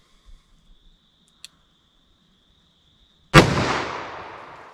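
A single sharp, loud .44 Magnum revolver shot fired from a 4-inch barrel, following a few small clicks and a faint steady electronic tone, with a long rumbling decay after the blast.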